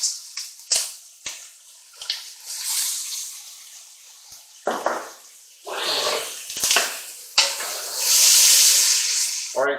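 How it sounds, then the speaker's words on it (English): Onions sautéing in a pan with pork chop drippings, a hissing sizzle that swells in bursts as the onions are tossed, with sharp pan clatters between and a loud steamy rush near the end. "I am going to add in my onions, and we're going to saute these for about 5 minutes"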